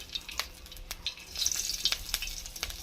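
Two slit green chillies frying in a hot wok, with a quiet, close sizzle and scattered sharp crackles and pops that grow busier halfway through, with no talk.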